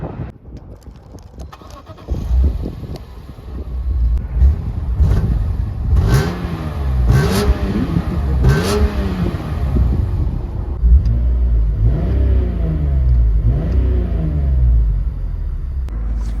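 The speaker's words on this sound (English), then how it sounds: "let me give you some sound clips of that beautiful S54 engine" A BMW M3's S54 engine revving hard in a series of loud, close rises and falls, each climb in pitch dropping back before the next blip, with a steady idle rumble underneath and no talking.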